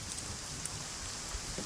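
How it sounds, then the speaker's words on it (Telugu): Heavy rain falls steadily outside a bachelor's room at night, a continuous close hiss of drops with no voices over it. "వర్షం ఇప్పుడప్పుడు తగ్గేటట్లేదు."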